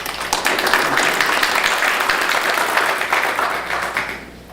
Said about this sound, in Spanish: recibamos con un fuerte aplauso al maestro Eduardo Esquivel.